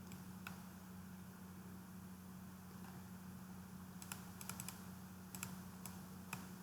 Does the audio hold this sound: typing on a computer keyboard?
yes